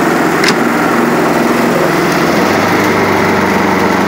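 A small portable Generac generator engine drones steadily and loudly up close, a constant buzzing hum with no pauses.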